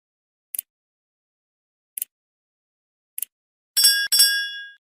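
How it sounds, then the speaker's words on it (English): Notification bell sound effect: three brief, high, faint clinks spaced evenly, then a louder bright bell-like ring with a shimmering tail, all on its own with no talk. "turn on the notification bell."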